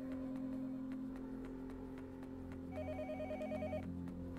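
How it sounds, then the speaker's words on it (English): Telephone ringing in the horror game Yomawari: Night Alone, a repeated electronic trill in short regular bursts over a steady low hum and quiet background music, with no voices. "Another phone ring, huh?"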